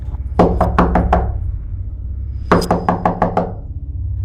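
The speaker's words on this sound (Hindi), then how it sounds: "दरवाजे पे कोई दस्तक देता है" Two separate bursts of knocking on a wooden door, five or six sharp raps each with a pause between, loud and close in a quiet room, used as a horror-story sound effect.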